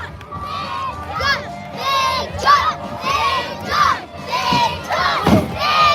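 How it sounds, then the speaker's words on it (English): At the Lumby Days wrestling event, a crowd, many of them children, chants and cheers for a wrestler in repeated rhythmic shouted bursts, loud and close, with a commentator talking over it. "listen to this Lumby Days crowd cheering on their hero, Big John."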